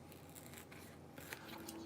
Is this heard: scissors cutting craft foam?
yes